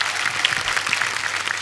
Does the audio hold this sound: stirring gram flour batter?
no